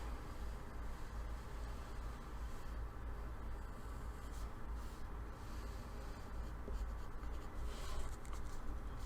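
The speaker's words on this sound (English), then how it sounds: "I'll kind of draw it a little bit darker." A pencil moves across paper in continuous scratchy strokes while a shark is drawn, a quiet, steady rasp set against a low background hiss.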